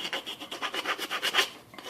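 Metal file rasping rhythmically along the rough drilled edges of homemade vise pads, a steady run of close, brisk back-and-forth strokes with no voices.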